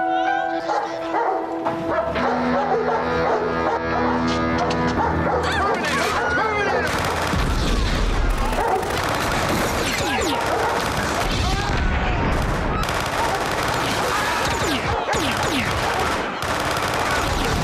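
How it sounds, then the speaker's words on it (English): Plasma rifle gunfire in the 1984 film Terminator: after a stretch of music, dense rapid bursts of loud blasts erupt and keep going, mixed with other noise and voices. "Dang, that's the plasma rifle."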